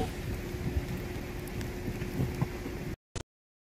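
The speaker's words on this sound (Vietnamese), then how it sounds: "Nơi đây hiện tại có mưa rất lớn và tuyến đường này đã ngập cục bộ." Heavy rain pours down on a partly flooded street during Typhoon Noru in Vietnam, a dense, steady hiss with scattered drops that stops abruptly near the end.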